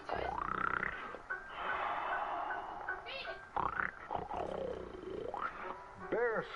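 A human voice imitates a bear snoring in a read-aloud story, making drawn-out growling, rumbling snores that rise and fall over several breaths, close and fairly quiet.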